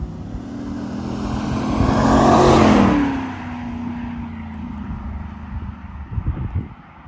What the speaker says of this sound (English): this is going to be a pretty aggressive full throttle drive-by.